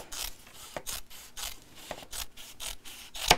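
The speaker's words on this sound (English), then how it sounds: "So just trimming this down so that it's the same size." Scissors trimming fabric for a box cushion cover, a close series of crisp snipping cuts in an uneven rhythm, about a dozen strokes with rubbing of fabric between, no talk.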